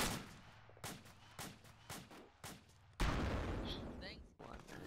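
Arma 2 video game gunfire, a series of sharp rifle shots spaced about half a second apart at moderate distance, then a denser burst of fire with sizzling noise, while a voice is faintly heard.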